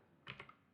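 Brief burst of a few quick keystrokes on a computer keyboard while typing a Linux config setting, faint and close, with no talking.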